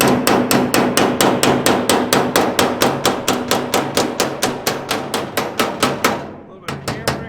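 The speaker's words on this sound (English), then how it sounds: "take your body hammer" Steady, rapid metal-on-metal blows from a body hammer on a Ford Model A's car body panel during a chop, close and loud in an even rhythm of about four strikes a second, with a brief pause before a few more hits.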